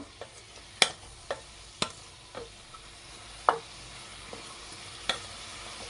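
Sweet corn masala fry being stirred and pressed down in a pan: scattered sharp scraping clicks and taps of a utensil against metal at an uneven pace, over a faint background sizzle, with no talking.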